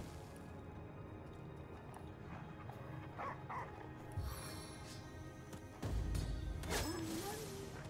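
A dog barks in the fantasy role-playing game Divinity: Original Sin, with a few sharp yips and a heavy thunk amid game ambience, fairly quiet overall.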